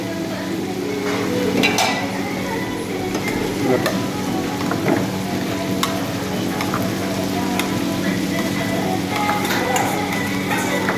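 Ginger garlic paste sizzles in hot oil while vegetable rice is cooked, a loud, steady crackling fry with scattered clinks of utensils, close by and continuous.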